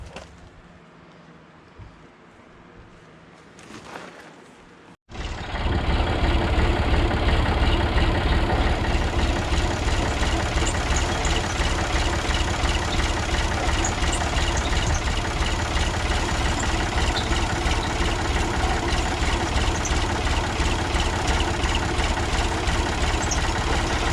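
A backhoe's diesel engine starts up after a few quiet seconds and then runs loud and steady, with a low, throbbing rumble while it mixes potting soil outdoors. No one speaks.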